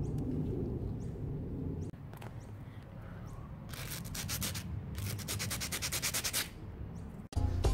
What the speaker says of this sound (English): I sanded the calipers using two lots of sandpaper.